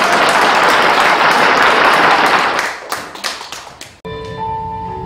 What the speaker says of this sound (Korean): 여러분들 큰 박수 부탁드립니다